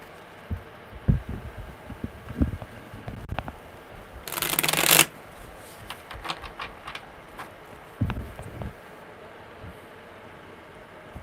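A deck of tarot cards is shuffled close up, with soft riffling taps and one loud burst of cards riffling through midway, then a few quieter handling sounds.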